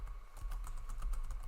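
A computer keyboard being typed on to enter sample text in an Excel spreadsheet, with a quick, fairly even run of soft key clicks heard close up and no talk.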